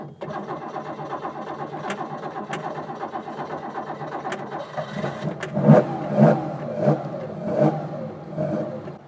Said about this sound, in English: So it's quite a lumpy start, but as the engine settles, it's a bit smoother now.